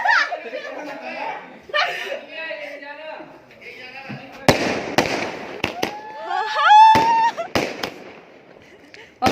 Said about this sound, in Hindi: और फिर ज्योति के बर्थडे की खुशी में हम लोगों ने ऊपर छत पे आके पटाखे छोड़े रात में।